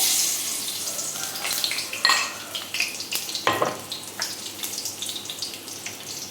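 Garlic cloves hitting hot oil in a pan, a steady crackling sizzle with brief louder pops and stirring clinks, close and continuous with no talk.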